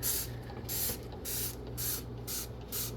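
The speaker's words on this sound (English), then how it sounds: "I just spray them down with this stuff" Five quick hissing bursts of Dawn Power Wash from a spray bottle onto mini split filters, fairly evenly spaced, each a short bright spritz against a faint background hum.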